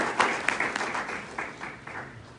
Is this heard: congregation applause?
yes